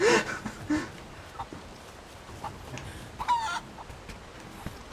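A chicken in the Rise of the Tomb Raider game clucks a few times in short, close bursts over a faint ambient background.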